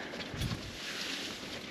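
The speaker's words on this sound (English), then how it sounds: "It got windy." Steady desert wind roars across the microphone at a tent campsite in Arizona, a broad rushing noise with a brief low gust buffeting near the start, no voices.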